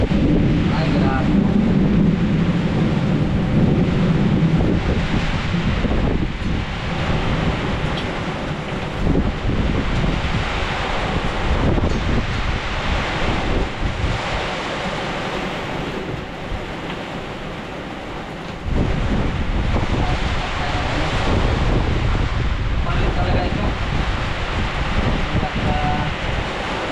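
Typhoon wind and heavy rain lash a hut during a storm, a loud continuous roaring rush with gusts that surge and briefly ease, dense and unbroken across the whole stretch.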